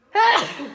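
A single sharp, loud sneeze close to the listener, bursting out suddenly and trailing off quickly.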